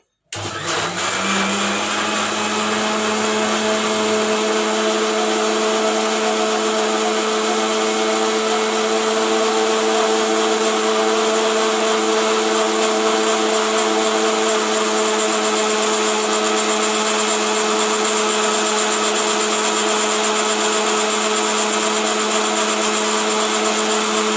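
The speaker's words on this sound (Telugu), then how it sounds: "కొద్దిగా మిల్క్ వేసుకోండి తర్వాత మిక్సీ పట్టేద్దాం" A kitchen mixer grinder blends muskmelon with milk into juice. The motor starts abruptly and then runs as a loud, steady, high-pitched whir for over twenty seconds without stopping.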